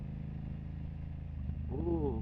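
A BMW F900R sport motorcycle cruises near an expressway exit, its engine a continuous close drone with wind rush, a voice talking briefly near the end.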